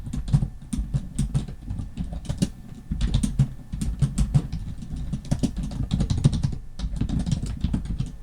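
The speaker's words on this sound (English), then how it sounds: "type in this." Rapid typing on a computer keyboard while entering C# code in Unity, a dense run of close, crisp key clicks with brief pauses, no voices.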